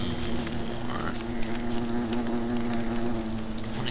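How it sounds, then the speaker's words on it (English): A bee in the video game Don't Starve gives a steady, close, droning buzz that continues without a break, with no talking over it. "What is that annoying buzzing noise? It's a bee, obviously."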